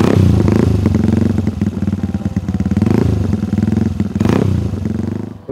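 A Vespa scooter engine runs loudly up close, with a rattling, pulsing putter that rises and falls in revs.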